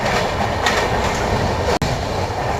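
A train at Khammam railway station rumbles loudly and continuously, wheels clattering rhythmically over the rails, with a brief sharp break in the noise partway through and no voices.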